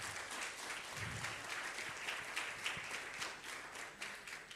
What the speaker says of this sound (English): Please give applause for our speakers today.